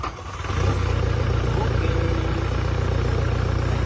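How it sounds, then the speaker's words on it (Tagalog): A Toyota Hilux engine with a reported smoking fault catches and settles into a steady, loud idle with a low rumble. Someone talks over the running engine. "So ngayon ay umandar na yung engine natin"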